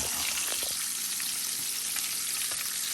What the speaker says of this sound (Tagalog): Tapos prito na siya.